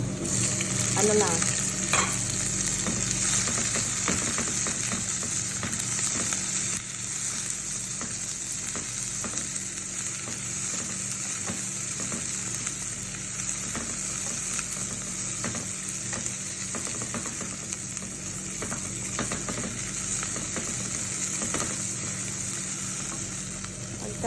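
Onions fry in a pan with a steady, close hiss of sizzling oil and occasional stirring scrapes, continuous throughout.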